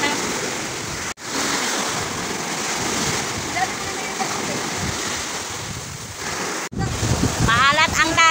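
Waves break on a beach in constant loud surf mixed with heavy wind buffeting the microphone, and a voice speaks briefly near the end.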